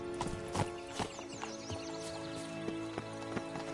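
Geralt's horse Roach trots in a video game, hooves clip-clopping in an uneven rhythm at moderate distance, with a brief whinny and soft game ambience behind.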